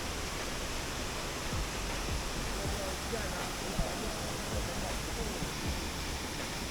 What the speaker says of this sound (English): We drove to a nearby waterfall, the Lata Titi Dua, one of Perak, Malaysia 12 icons.